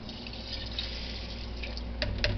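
Water is poured into a pot of split pea and ham soup, giving a steady close trickle and splash throughout, with a few brighter drips near the end.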